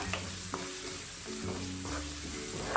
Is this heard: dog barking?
no